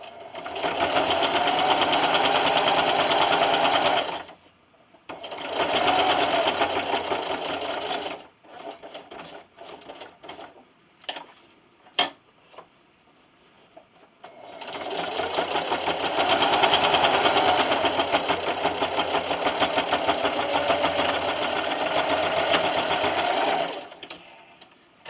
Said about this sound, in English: And I do like to go over that a few times and then continue to sew.